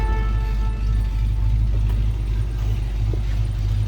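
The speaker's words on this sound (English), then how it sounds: "Just a nice little deep throaty rumble out of that 302." A 1966 Ford Mustang coupe's 302 V8 idles with a steady, deep, throaty exhaust rumble, close and constant with no revving.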